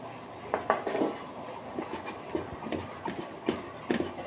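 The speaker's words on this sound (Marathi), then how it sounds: "इथं मी फुलपात्र घेतले, त्याच्या साहाय्याने डाळ बारीक करते, कारण जरा डाळ गरम आहे." Hot cooked dal for Holi puran poli gets mashed with a metal tumbler, giving a series of irregular metallic knocks and scraping thuds against the pot, close and fairly loud, with no talking.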